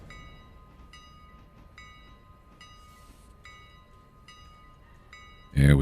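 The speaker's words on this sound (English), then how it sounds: "would you blow the whistle right next to the passengers here like this?" In the Railroader video game, a train whistle sounds at a level crossing as a series of short, regular toots over a quiet rumbling background, ending with a sudden loud burst.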